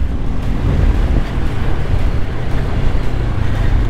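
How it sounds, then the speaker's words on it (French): A Honda CL500 motorcycle engine accelerates off-road, a steady loud low drone mixed with heavy wind rush across the whole clip, with no talk. "Alors si j'accélère un peu là en TT, ça donne quoi?"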